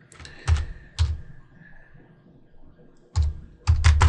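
Bursts of keystrokes on a computer keyboard while renaming a layer in Photoshop, two quick clusters early, a quiet pause, then two more dense flurries of clicking near and clear with no talk.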